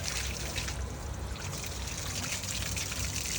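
Water trickling and splashing steadily as a baby girl plays with it, a continuous close, bright dribbling wash.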